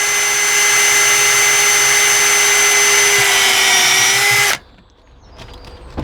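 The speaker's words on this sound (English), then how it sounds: "I'm using my core drill bit" A power drill with a core bit whines steadily at high speed for about four and a half seconds while drilling through plastic, then cuts off abruptly, leaving faint handling noises.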